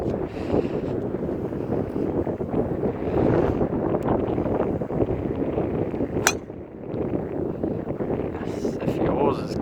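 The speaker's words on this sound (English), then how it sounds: "I apologize for the shaking. It's very windy." Strong, gusting wind in the Serengeti buffets the microphone with a constant roaring rumble, loud and close throughout, with a brief sharp click partway through.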